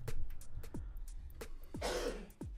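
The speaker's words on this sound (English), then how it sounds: "I didn't want to cough directly into the microphone" Several short, sharp coughs and throat-clearing bursts close to the microphone, spaced irregularly, with one louder, breathier cough near the end.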